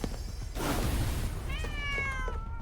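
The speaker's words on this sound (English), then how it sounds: "And the final cat is here." A video game cat lets out two clear rising meows in close succession, loud and near over a steady backdrop of game music and ambience.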